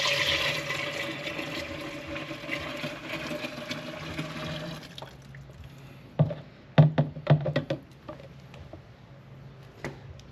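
Liquid chelated iron lawn treatment is poured from a jug into a container, giving a steady gurgling pour for about five seconds, followed by a few handling knocks and taps.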